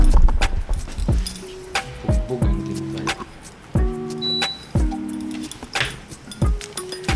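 A bunch of keys jangles and clinks up close in repeated bursts. Bright metallic chimes ring briefly between shakes, with a few handling knocks.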